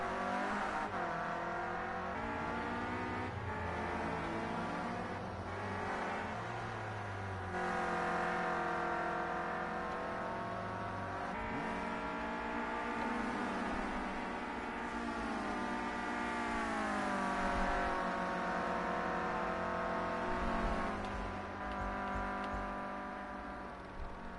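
Race cars roar steadily past on a PS4 racing game track, engines droning and shifting pitch as they pass, continuous and fairly loud with no talk over them.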